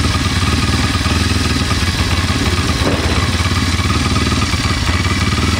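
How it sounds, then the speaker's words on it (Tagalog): A Kawasaki KLX 230RS motorcycle engine runs close by, a loud, steady rhythmic thrumming at idle with fine mechanical clatter and occasional popping, with no talk over it. "Yun yung tunog ng kanyang makina."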